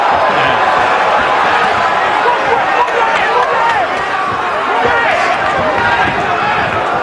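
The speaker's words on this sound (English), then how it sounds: "There's a lot of cheering going on." A boxing arena crowd roars and cheers steadily during a professional bout, a dense, continuous wash of noise with a commentator talking over it.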